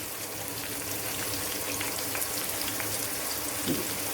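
Garlic and curry leaves fry in hot oil in a pan while a bitter gourd pickle is made, giving a steady, dense crackling sizzle that holds throughout with no talk.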